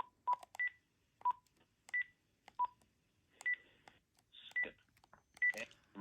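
Simulated incoming call tones from a Panasonic KX-PRS120 cordless phone: a series of short, clear electronic beeps in irregular pairs and runs, sharp and isolated against near silence.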